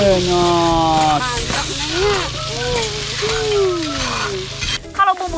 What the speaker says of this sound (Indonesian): Mak tumis bumbu dulunya